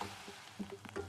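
Onions fry quietly in a pan, giving a faint, low sizzle broken by a few soft scrapes and taps over a brief moment, with no voices.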